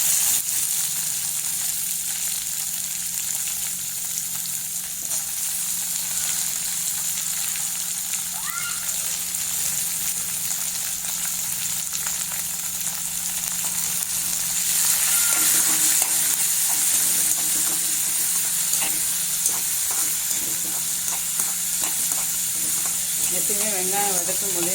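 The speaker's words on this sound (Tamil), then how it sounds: "இதோட நம்ம கட் பண்ணி எடுத்து வச்சுருக்க வெங்காயம் ஆட் பண்ணிக்கலாம்." Chopped onions frying in a pan for a guava chutney, stirred now and then: a steady, close, continuous sizzle and hiss with occasional soft scraping from the stirring throughout.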